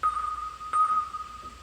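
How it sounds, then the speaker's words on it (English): Synth bell patch from Native Instruments Massive, low-pass filtered, giving a soft sustained high tone with a faint second strike midway, quiet and alone. "Just a massive patch with a little bell sound."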